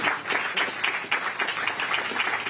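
An audience claps for New York Governor Kathy Hochul at a bill announcement, a continuous patter of many hands at moderate distance, even and unbroken throughout.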